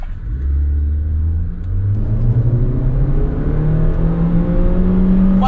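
A Honda Civic and a Toyota Corolla Grande launch in a drag race, engines roaring loud and close as they accelerate hard together, the pitch climbing steadily through the revs for the whole stretch.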